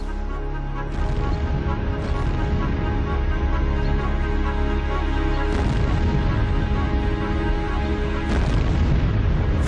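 Field gun shrapnel shells bursting over troops in a World War I battle scene, heavy booming blasts at roughly one, five and a half and eight and a half seconds over a continuous loud rumbling din of battle.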